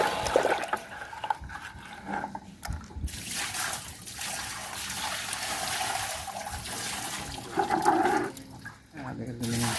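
Dirty water streams and splashes steadily out of a Daikin air conditioner indoor unit as it is washed out during cleaning, a continuous close rushing trickle with people talking over it.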